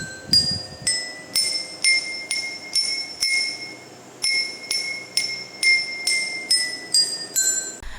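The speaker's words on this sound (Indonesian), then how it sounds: "pukul satu persatu gelas untuk mengetahui perbedaan bunyi" Eight glasses holding different amounts of water are struck one at a time, giving a steady run of bright, ringing glassy tones that step in pitch, each strike sharp and close with a short decay.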